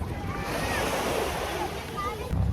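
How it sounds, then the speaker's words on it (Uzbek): Pacific Ocean surf rolls onto a Singapore beach, a continuous breaking wash mixed with wind buffeting the microphone and a faint voice in the background. "plyaj, Tinch okeani."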